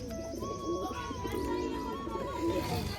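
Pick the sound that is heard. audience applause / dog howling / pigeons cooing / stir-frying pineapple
pigeons cooing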